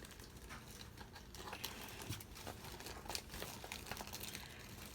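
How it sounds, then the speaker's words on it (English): Paper envelope from a 100 envelope savings challenge being handled, quiet close crinkling and rustling with scattered sharper paper snaps, no talking. "I'm just going to pull one number from the 100 envelope challenge"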